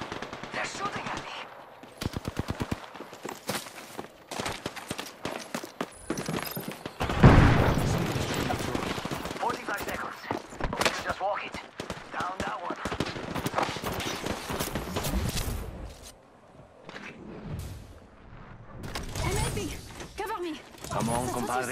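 Gunfire in the video game Apex Legends: rapid automatic bursts and single shots, loud and close, with booms mixed in, while a player talks over the action.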